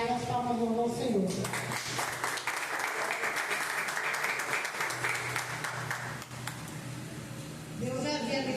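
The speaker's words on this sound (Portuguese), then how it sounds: "as palmas vão ao Senhor" Church congregation applauding together, a dense sustained wash of clapping that fills most of the clip, with a voice heard briefly at the start and end over background music.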